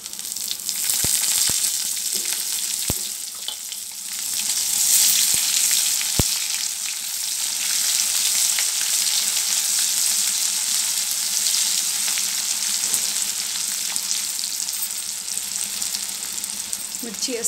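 Onions sizzle steadily in a hot pan for a Telugu ponnaganti and chana dal stir-fry, a constant bright frying hiss with occasional soft stirring clicks, no talking.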